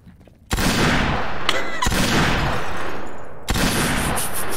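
Gunfire in the video game Garry's Mod comes in loud, continuous bursts of rapid shooting, with three sharp onsets separating sustained volleys and no talking.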